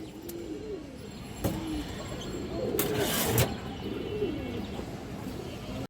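Pigeons of the Giribaz breed, an old-line green-colored pair, give soft low cooing phrases repeatedly at close range, with faint chirps and background noise between the calls.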